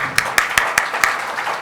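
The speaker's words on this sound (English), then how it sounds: "A big round of applause." Five loud, crisp claps ring out close by in an even beat at a GST open house meeting, then fade into a low room murmur as the audience applause tapers off.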